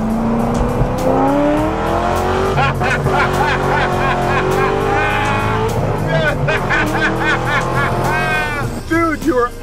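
Race car tearing along a road, loud and close, its engine pitch climbing and dropping through repeated gear changes with occasional tire squeal, while people talk over it.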